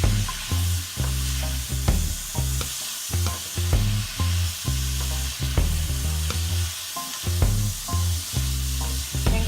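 Carrot pieces sizzle in a hot frying pan while a bok choy dish is cooked, a close, steady frying hiss broken by regular stirring pulses, with no talk.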